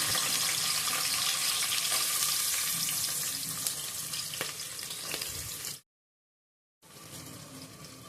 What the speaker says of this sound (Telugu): ఇప్పుడు ఆయిల్ వేడైందండి దీంట్లో ఇప్పుడు పచ్చిమిరపకాయలు వేసుకోవాలి సన్నగా తరుకున్న ఉల్లిగడ్డలు